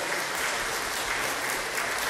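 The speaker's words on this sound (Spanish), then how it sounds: "Un aplauso fuerte para el profesor Jordi Nieva Fenol" An audience at an international legal conference gives a professor steady, continuous applause, even and moderately distant, with no voices rising above it.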